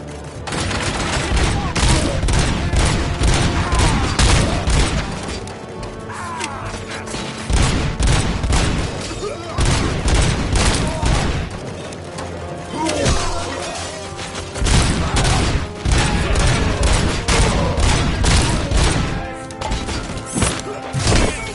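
Sustained gunfire in the video game RoboCop: Rogue City during a bank robbery shootout in Detroit, loud dense bursts and rapid automatic fire with impacts and crashes, continuing for the whole stretch under occasional shouted voices.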